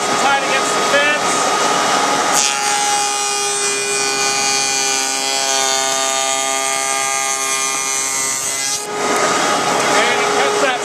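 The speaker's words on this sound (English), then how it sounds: "And it cuts that same lock miter just enough for the other one to fit into." A lock miter edge is cut on wooden storage chest stock with a router-style power cutter, giving a loud, steady whining cut with a tonal hum that lasts about six seconds between stretches of running motor noise.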